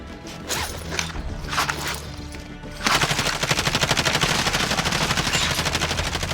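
Rapid, loud bursts of FAL rifle fire in the video game Warzone, a dense run of closely spaced shots that starts abruptly partway through after quieter, muffled gameplay sounds.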